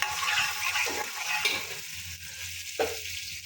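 Garlic and ginger paste stirred in a pan, a spoon scraping with soft sizzling and a few sharp clinks against the metal, close up.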